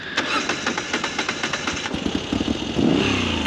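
A Moto Guzzi V85TT motorcycle with its rear wheel bogged in silt revs in short pulsing bursts, then swells into a louder, sustained rev near the end.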